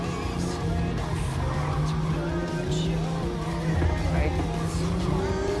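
A Toyota GR Supra RZ race car engine drones steadily in Gran Turismo Sport, a sustained mid-level roar with shifting pitch and occasional tire squeal, no talking.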